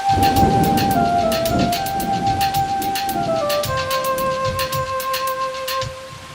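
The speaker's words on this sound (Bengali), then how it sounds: "হঠাৎ বৃষ্টি শুরু হলো" Rain begins in a Bengali fairy-tale cartoon, a steady hissing downpour with scattered sharp drop-like hits, heard loud and close beneath sustained musical tones.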